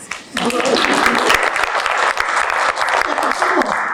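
Audience applause fills a city transit meeting, a steady dense patter of many hands clapping at close range for about four seconds, with faint voices mixed in.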